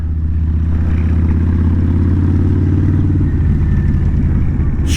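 Kawasaki VN 1600 Mean Streak cruiser idling and loping at low revs, a loud, close, deep rumbling exhaust with a steady throbbing beat that roughens and clatters slightly near the end.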